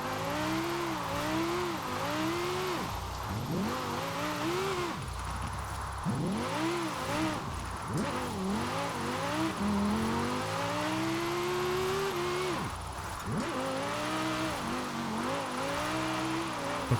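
A limousine being point-drifted in the racing game Forza Horizon 4: the engine revs up and down in repeated surges as it slides through corners, loud and continuous, with brief dips between pulls.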